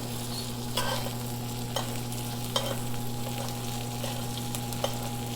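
A bone-in ribeye steak searing in a hot pan just after being flipped, a steady close sizzle with a few sharp spatters and clicks, alone under a constant low hum.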